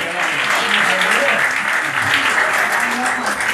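A crowd at a club concert gives loud, sustained applause, a thick unbroken wash of clapping with voices mixed in as cheers and chatter.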